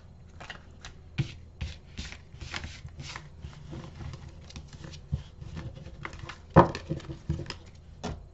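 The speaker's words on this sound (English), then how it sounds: "let me give these a quick little shuffle" Tarot cards being shuffled by hand, a steady, close run of soft riffling and pattering slaps with one sharper snap partway through, and no talking.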